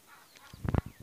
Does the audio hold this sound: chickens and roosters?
yes